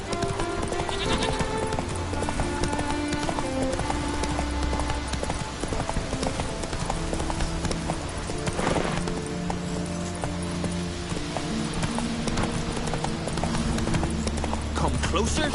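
Roach the horse galloping in The Witcher video game, rapid rhythmic hoofbeats pounding continuously up close over a game soundtrack with a spoken voice on top.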